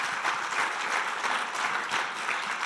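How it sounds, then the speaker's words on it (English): An audience at a Wednesday startup pitch event applauds, a steady wash of many hands clapping at moderate distance throughout, with no talk over it. "Give her another round of applause."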